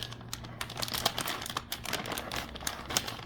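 A resealable bag of Griot's car wash pods crinkles and crackles close up as it is pulled open, a quick run of sharp plastic rustles and snaps with no talking.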